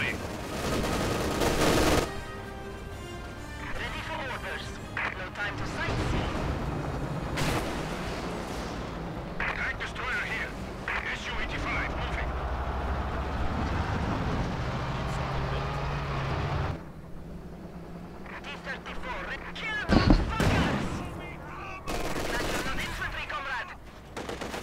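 Battle gunfire and tank fire in the video game Company of Heroes 2 on a winter front: sustained machine-gun bursts and rifle shots with heavy booms, loud and continuous, with scattered louder blasts.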